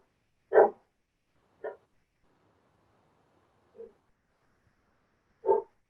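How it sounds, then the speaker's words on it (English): A dog barks in four separate, well-spaced woofs over six seconds, heard distantly from the room during a township board of trustees meeting, with no talk over it. "Whose dog is that, by the way?"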